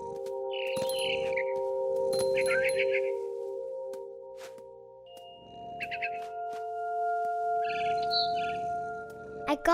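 A mother bird chirps as a story sound effect, several short bursts of high tweets separated by pauses, clear and close over a steady low tonal hum.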